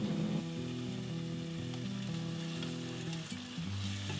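Thickly diced tomatoes fry in a pan of yogurt-based green masala for shrimp biryani, giving a steady, close sizzle throughout with a low tonal hum beneath.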